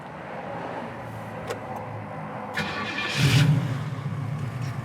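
A 1967 Pontiac Firebird convertible engine cranks briefly and catches, rising to a smooth, quiet idle from a nearby vantage, with low mechanical rumble throughout.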